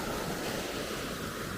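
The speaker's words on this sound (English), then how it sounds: "We look back down Nancytown Creek here." Nancytown Creek, running strongly after Hurricane Helene, gives a constant, loud, close rushing of flowing water, an even broadband wash with no voices.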